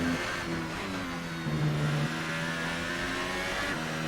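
Steady, sustained engine drone of a turbine-like F1 car lapping Suzuka in a racing video game, smooth and fairly loud with slight shifts in pitch and no talking.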